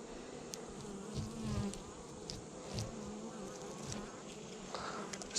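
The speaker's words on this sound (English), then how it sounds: "I'm just going to try and brush a couple bees off of it" Honeybees buzz around a hive frame during a backyard hive inspection, a close, continuous hum with individual bees swelling louder as they pass near, no voices heard.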